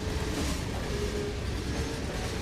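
A long string of freight cars rolls along in the Trainz 2022 rail simulator, a continuous rumbling clatter of wheels on track, moderately loud and steady with no talk over it.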